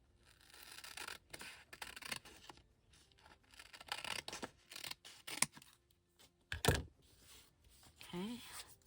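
Scissors snip across the bottom of paper for a junk journal page, a series of close crisp cuts and crinkly rustles with a louder scrape partway through, and a quiet voice talking in the background.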